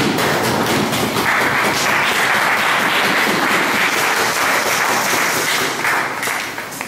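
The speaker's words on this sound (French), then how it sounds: "Nous acclamons très fort pour la gloire de Dieu." A church congregation applauds loudly and steadily, a dense wash of many hands clapping in a large hall for several seconds before tapering off slightly at the end.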